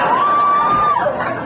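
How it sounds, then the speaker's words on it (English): An audience at a comedy juggling show cheers and applauds, a brief burst of crowd noise with a high shouted whoop over the clapping. "Everybody applaud."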